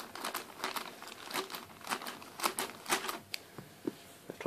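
Hands tear open a sealed plastic packet holding accessory tools for a Maytag WindTunnel U5450 upright vacuum, giving close, sharp bursts of crinkling and crackling that come in irregular clusters for several seconds.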